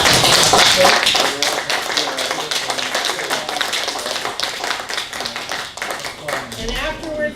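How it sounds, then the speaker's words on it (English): Audience clapping for local Vietnam veterans standing up at a community panel, a dense, loud burst of many hands that is strongest at the start and then tapers while speech runs under it. "would you stand up so we can give you a nice clap"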